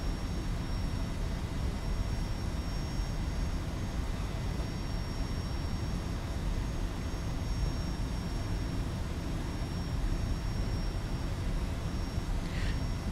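Boeing 757-200 airliner engines at takeoff power in the X-Plane 12 flight simulator, a steady, loud, broadband jet roar that holds constant throughout with no talk.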